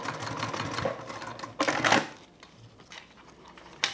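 A sewing machine stitches zipper tabs onto a toiletry bag, a close mechanical whirring that speeds up in short bursts and then pauses, with no voices over it.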